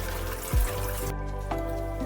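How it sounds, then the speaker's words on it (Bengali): Whole taro stalks being rinsed in water in a kitchen, with a soft steady trickle and a couple of brief splashes as the stalks are moved. "গোটা ওল ডাঁটাগুলো একটু ধুয়ে নিচ্ছি"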